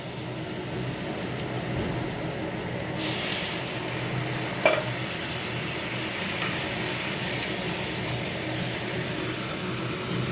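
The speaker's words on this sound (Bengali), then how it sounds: "এবার জলটা দিয়ে দেবো" Fish and egg curry cooking in a pan as water is poured in, giving a steady, close broadband sizzle with stirring scrapes throughout and one brief sharp clink midway.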